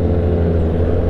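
A close, loud Kawasaki ZX10R motorcycle engine drones and rumbles steadily, a low throaty motor sound with a slight rev, no talking.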